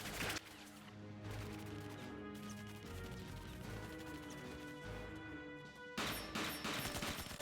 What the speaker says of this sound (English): And the guns even sound right.